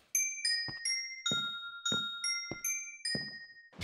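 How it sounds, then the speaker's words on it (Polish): Minecraft note block chime playing the first two bars of a classic Japanese melody: bright, bell-like tones in a steady stepping rhythm, about eight notes with soft knocks beneath, close and clear with no talk. "Będzie to ten klasyczny japoński dzwonek, a raczej jego dwa pierwsze takty."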